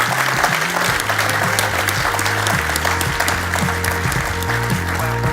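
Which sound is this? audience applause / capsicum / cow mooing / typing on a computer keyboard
audience applause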